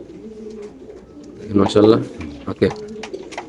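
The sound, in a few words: Pakistani racer pigeons cooing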